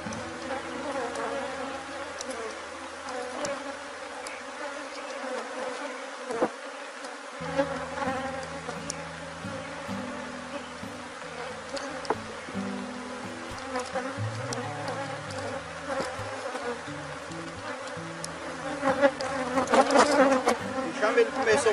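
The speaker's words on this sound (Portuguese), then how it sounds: "O enxame ele começou um pouco agressivo, porque aqui é da meio-dia para tarde e a gente vai estar invertendo caixas" A honeybee swarm, agitated in the midday-to-afternoon heat while hive boxes are inverted, drones in a dense, continuous buzz close by. The buzzing holds steady throughout and swells louder near the end.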